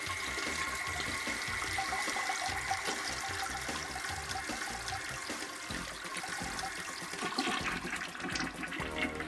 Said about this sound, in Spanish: Jálenle al inodoro para vaciar el tanque.